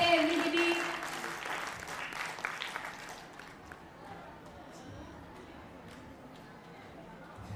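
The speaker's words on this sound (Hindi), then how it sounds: "नीरज का जोरदार तालियों से स्वागत करें everybody" An audience at a school annual function applauds loudly for a performer, a dense burst of clapping that fades to scattered claps and low crowd murmur, with a voice over it at first.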